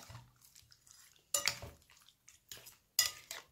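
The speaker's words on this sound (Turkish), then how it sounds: "Karıştırıyorum." Quiet stirring and scraping of chicken in sauce in a pot, with two sharper clinks of a utensil against the rim between softer wet shuffling sounds.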